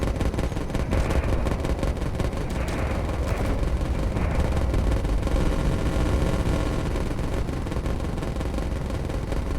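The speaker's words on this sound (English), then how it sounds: "I think I hear your guns." Rapid automatic gunfire and heavy booms rattle continuously in a video game space battle, dense and loud throughout with no pauses.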